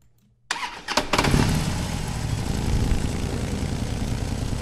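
An old motorcycle in a video game cranks and catches after a brief silence, then settles into a steady, loud, rough idle that carries on without talk.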